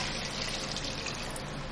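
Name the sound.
water being poured into a cooking pot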